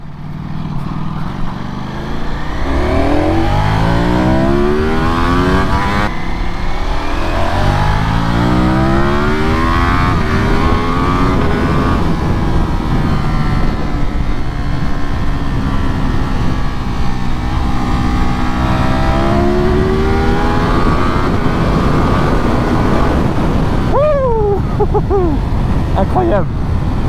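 A 2025 Ducati Panigale V4 motorcycle engine roars steadily and loudly while riding, its pitch rising and falling with repeated gear changes and acceleration, with someone talking briefly near the end.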